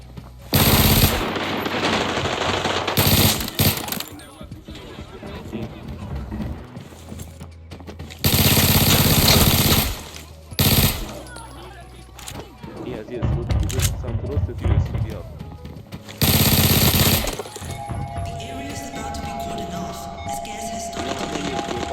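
Bursts of rapid Glock 18 automatic gunfire in the Arena Breakout video game come in several loud, dense volleys separated by quieter gaps, with someone talking over the action between bursts.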